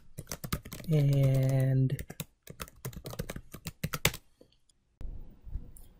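Rapid clicking of computer keyboard keys as an email address and password are typed in to sign in on a PC, with someone talking over much of the typing.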